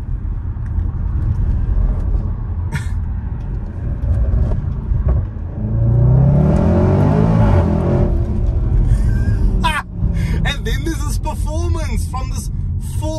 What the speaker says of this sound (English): From the pops to the volume of this exhaust